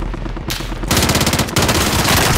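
Loud, close gunfire from a video game crackles in rapid automatic bursts, breaking off briefly before resuming in dense, continuous fire.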